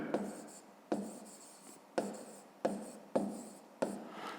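A pen writes on paper in short, close scratching strokes, six or so distinct bursts in an irregular rhythm, soft and dry with quiet gaps between them.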